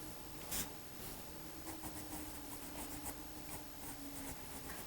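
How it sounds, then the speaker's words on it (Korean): Pencil sketching on commercially available Canson paper, a soft continuous scratchy rubbing of graphite with faint stroke pulses, quiet and close, heard alone without talk. "스케치하는 걸 그래도 한번 보여드려 볼게요."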